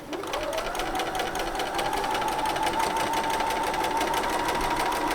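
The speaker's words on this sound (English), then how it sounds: "I'm going to stitch more or less just a basic straight stitch" A sewing machine running a basic straight stitch while working bobbin and foil decoration on a cushion, a steady fast mechanical whir that holds continuously and alone at close range.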